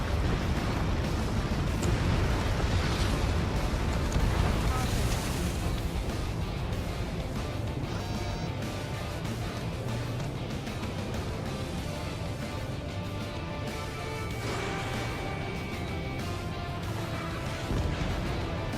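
Missile strikes and explosions from the Ace Combat 7 flight combat game roar continuously for nearly twenty seconds, a dense, loud wall of blasts, crashes and rumble with scattered bursts rising out of it and no voices.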